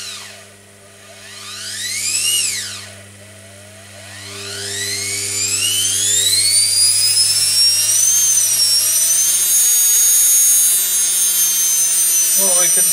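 Washing machine motor on a test bench, powered up and running slowly with a rising, then steady whine that builds and sustains loudly, alongside lower hum tones.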